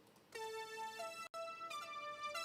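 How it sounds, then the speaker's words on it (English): A big sawtooth lead synthesizer plays a short melodic line of sustained, bright, buzzy notes that step between pitches. Every tone is loud and up close, with one abrupt cut of silence midway and no voices. "the big saw lead sounds like this"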